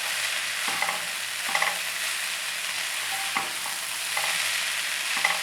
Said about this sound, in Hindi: इसी में अपनी ग्रीन प्याज डाल दूँगी और इसे 2-3 हाथ चलाऊँगी